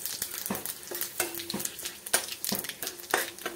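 Cumin seeds, a bay leaf and dried red chilies crackling in hot oil, a close, busy sizzle with rhythmic stirring scrapes and spatula taps.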